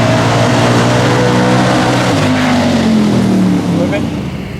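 A car engine idling steadily after a carburetor float adjustment, a loud continuous rumble with a slight pitch drop near the end, heard close by.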